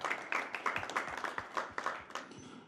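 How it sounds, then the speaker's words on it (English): Individual claps stand out in a quick, even rhythm as a seminar audience gives a short, fairly faint round of applause that tapers off near the end. "Can we have a round of applause"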